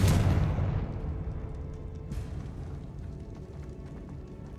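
Confringo blasting spell in Hogwarts Legacy: a loud, deep explosive boom at the start that decays into a long rumbling tail, with a smaller burst about two seconds in.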